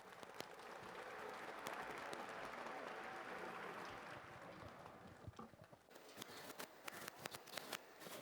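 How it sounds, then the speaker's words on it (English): A crowd at a cancer awareness marathon claps for the runners outdoors, a sustained wash of applause that thins into scattered individual claps toward the end. "Can we have a big round of applause for the runners out here?"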